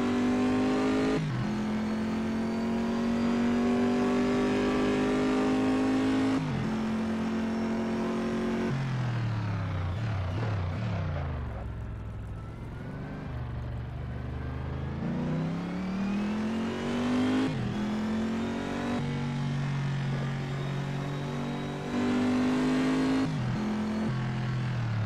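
A race car in Assetto Corsa at Circuit of the Americas revs loud and close, its engine pitch climbing through repeated upshifts, dipping through a corner, then rising hard again on throttle.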